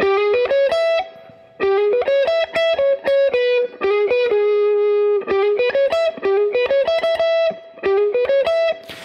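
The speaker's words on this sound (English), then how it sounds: "really cliche but classic, great sounding blues lick that you can play" An electric guitar plays a bluesy lick, with quick plucked notes, bends and short pauses. The tone is clean to lightly driven, with no talking.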